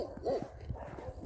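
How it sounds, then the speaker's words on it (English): A dog barks a few times on a village street near Kyiv on a winter evening, the yips fairly distant and quiet against a low outdoor background. "Yeah, we have here a lot of dogs."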